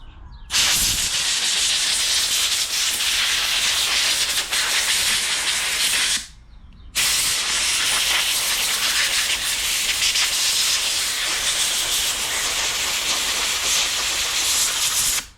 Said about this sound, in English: let's take it over here and blow it off again with Angelica's blower